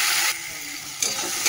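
Tomato and green chili paste sautéing with onions in a pan, a steady broadband sizzle with some stirring, changing in texture partway through and briefly louder near the end.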